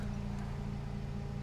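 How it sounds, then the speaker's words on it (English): Honda Civic air-conditioning compressor with its clutch engaged, running as a steady low mechanical drone with a faint rhythmic pulsing, heard up close and continuous without any talk. "you can probably hear that the AC is, the clutch is cranking right now just fine."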